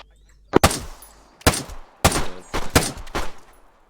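Bursts of gunfire crack out in several separate volleys, close and loud, with short gaps between groups of rapid shots and no talking.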